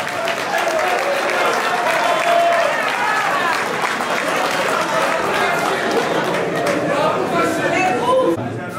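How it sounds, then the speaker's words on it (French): A large crowd claps steadily and loudly at a political ceremony honouring dignitaries, dense sustained applause with chatter mixed in, fading at the very end. "ils peuvent également se tenir debout pour les applaudissements"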